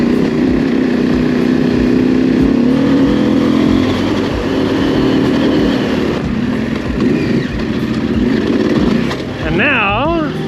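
An 890 adventure motorcycle riding along Moab's White Rim Trail, its engine a steady, loud, close drone with slight shifts in pitch and wind buffeting throughout.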